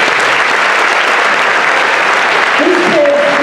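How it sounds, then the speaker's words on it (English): Dense clapping from the audience at a 5th–8th grade school winter band concert, steady and full throughout, with a voice starting to speak over it near the end. "So if you could give those guys a round of applause"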